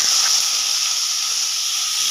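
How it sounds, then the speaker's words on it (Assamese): A pressure cooker cooking dal gives off a loud, steady steam hiss that holds unbroken for the whole stretch, close by and alone with no talk. "এয়া দালি বনাইছে কুকাৰত"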